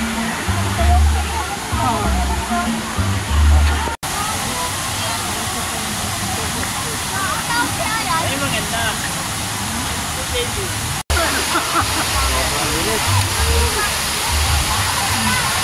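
Hinilugang Taktak waterfall roars as a loud, continuous broadband rush, with people talking faintly under it at a crowded site.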